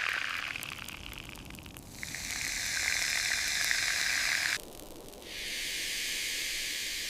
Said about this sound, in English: Finally, the meat is perfectly cooked.